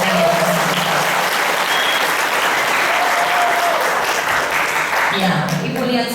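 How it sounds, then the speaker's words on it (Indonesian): Audience applause for graduating students, a dense, steady wash of clapping that stays loud and even throughout, with faint voices beneath. "Tepuk tangannya deh buat kalian."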